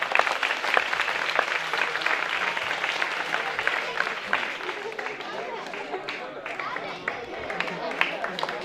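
An audience at an award ceremony claps, giving dense, sustained applause that gradually thins and softens toward the end, with some voices audible beneath the clapping.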